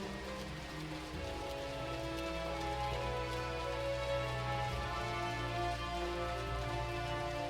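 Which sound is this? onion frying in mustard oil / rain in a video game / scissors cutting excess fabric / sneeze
rain in a video game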